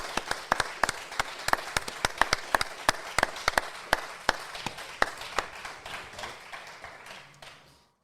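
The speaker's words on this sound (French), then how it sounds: "Je vous demande de faire un tonnerre d'applaudissements pour Hassan Chadi, Nicolas Navarro" An audience applauds runners invited onto a stage, steady dense clapping with sharp individual claps standing out, sustained for several seconds then fading away at the end.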